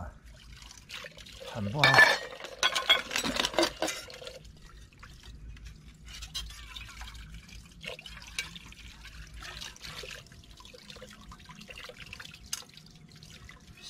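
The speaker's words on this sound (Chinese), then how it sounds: "洗碗我是专业的，快的。" Tap water runs and splashes while dishes are washed with dish soap in a home kitchen, a loud burst of flow early, then quieter intermittent trickling and clinks, with a voice speaking over it.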